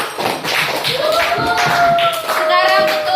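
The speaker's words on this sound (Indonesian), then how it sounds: "kasih tepuk tangan untuk kelompok." Classroom applause for a student group, a dense patter of many small hands clapping close by, mixed with children's chatter and a sustained tonal whine running through the second half.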